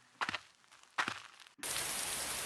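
Rain falls in the video game Flowers: after a few soft taps, a steady, even hiss of rain and raindrops abruptly sets in and continues.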